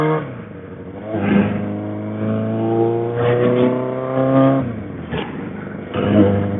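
A 1999 Suzuki Katana 600 inline-four motorcycle revs repeatedly while riding in traffic, the engine rising and falling in several loud surges through short shifts, heard close with no talking.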